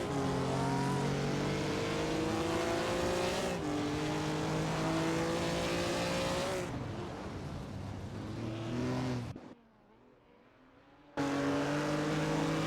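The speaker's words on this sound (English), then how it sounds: "Hope you're enjoying the AI car racing simulator" Race cars in an AI car racing simulator game with 1950s classic cars drone steadily with layered engine tones. Pitches rise and shift as cars pass, then the sound cuts to near silence for a moment before the engines return.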